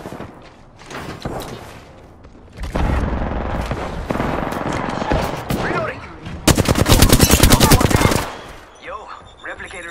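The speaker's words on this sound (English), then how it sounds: "Firing. Shot fired." Apex Legends gunfire, with bursts of rapid automatic shots and single cracks echoing loudly in close succession, heaviest in a dense rattling burst near the end, over game noise.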